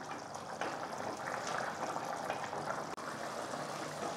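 Chicken gravy thickened with coconut milk simmers for kadai chicken, a steady close hiss of bubbling with a faint brief drop near the end and no voices.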